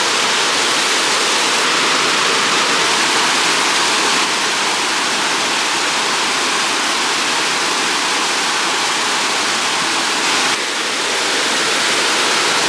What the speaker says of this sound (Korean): 근데 그 계곡물 흐르는 소리가 엄청나더라고요